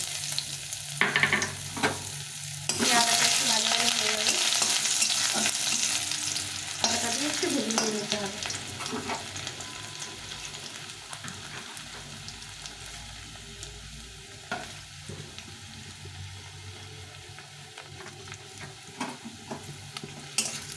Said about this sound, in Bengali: আদাটা একটু ভাজা ভাজা হয়ে গেছে